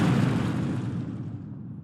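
An explosion sound effect fires in a game being built in a programming class: a loud broadband boom at the start that rumbles and slowly decays over almost two seconds, with no talking.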